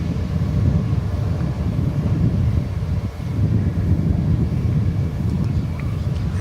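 American Airlines jet taking off from runway 18 left at DFW Airport at night, a broad roaring rumble heard from a distance, swelling and easing slightly with wind buffeting the microphone; someone talks in the background.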